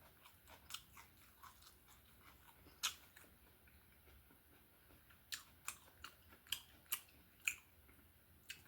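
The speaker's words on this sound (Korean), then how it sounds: "양배추랑 한번 먹어보겠습니다" Close, quiet crunchy bites and chewing of gwamegi, Korean half-dried fish, eaten wrapped with cabbage, a series of sharp crisp snaps mostly bunched in the second half, with no talking.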